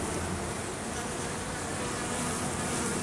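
Honeybees buzz at an opened hive during a beekeeper's inspection, a dense, steady drone that stays close and even throughout, with no speech.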